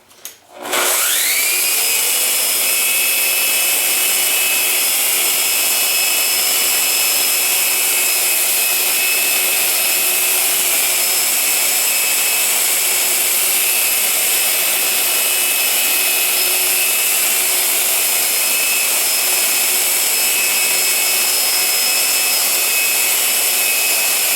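A loud, continuous high-pitched whirring of a Festool Rotex RO 150 random orbital sander with high vacuum extraction starts abruptly and holds steady, unbroken, for the whole stretch.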